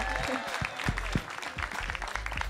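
A television studio audience applauds to welcome guests on stage, a dense, lively patter of many hands with a few louder individual claps mixed in throughout.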